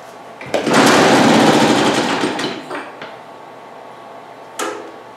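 An old 1950s two-cycle lawn mower engine is pulled to start and sputters in a loud burst of about two seconds, then dies away, followed by a brief second short cough.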